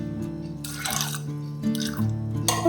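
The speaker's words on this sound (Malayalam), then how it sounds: "ഇനിയിപ്പോൾ ഇത് മുങ്ങുന്ന രീതിയിൽ വെള്ളം ഒഴിക്കാം." Water is poured into a pot of cowpeas for a masala curry, giving a close splashing, trickling pour in bursts over a low steady hum.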